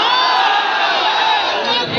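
A large crowd of married men at an outdoor Islamic sermon gathering roars a sustained, loud collective shout of takbir in answer to the preacher, a dense wall of voices holding steady for the whole moment.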